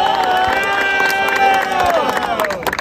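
Crowd at a rap battle roaring and shouting its approval, loud and close, with voices yelling together in a sustained cheer that breaks into scattered claps near the end.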